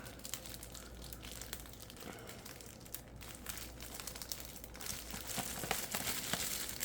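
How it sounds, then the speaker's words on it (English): Packing tape being peeled and torn off an HP Victus 16 laptop box, a close, continuous crinkling and scratching that grows a little louder toward the end, with no talking. "Okay, so finally got the tape off."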